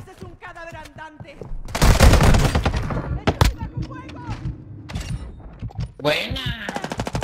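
Automatic gunfire in the video game Call of Duty Warzone 2, a loud close burst of rapid shots followed by scattered single cracks, with players talking before and after.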